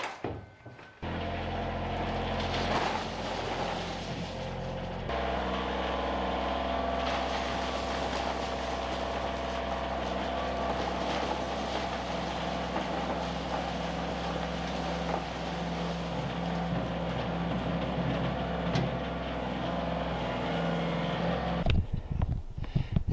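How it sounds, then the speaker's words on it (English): A big old tractor engine runs steadily on a ranch, a continuous low droning hum with tonal harmonics that holds nearly unchanged for over twenty seconds before cutting off, with no talking. "Now I got me big old tractor."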